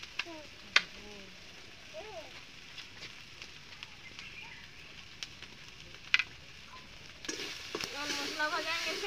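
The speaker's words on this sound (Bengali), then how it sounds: "আদা রসুন পেঁয়াজ ভাজাতে থাক" Ginger, garlic and onion fry quietly in a home kitchen pan with a soft, steady sizzle. Occasional sharp spoon clinks mark the stirring, and the sizzle swells louder near the end.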